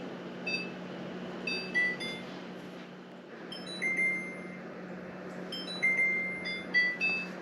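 A kitchen timer being set for five minutes gives several short, thin electronic beeps in small clusters over a steady background hum, fairly quiet and with no talking.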